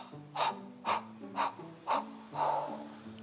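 In a children's yoga breathing exercise, five short sharp breaths sound one after another at a steady rhythm, each a close, breathy puff, with a soft musical tone underneath.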